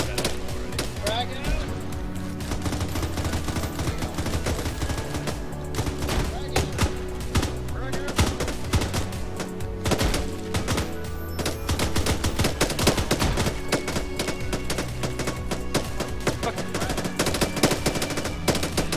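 Dense military video game gunfire, with rapid machine-gun bursts and overlapping rifle shots crackling almost nonstop while voices talk over the action.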